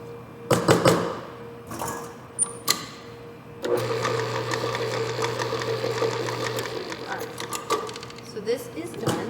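Electric stand mixer beating chocolate crinkle cookie dough, heard in short bursts and then a steady whirring run of a few seconds, with clatter and a voice talking in between.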